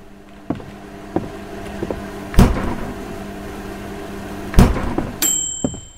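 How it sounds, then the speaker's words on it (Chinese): A microwave oven in a horror video game sounds as a low steady hum with a few soft clunks and two loud thuds, ending in a sharp high beep that rings on briefly. "微波炉。"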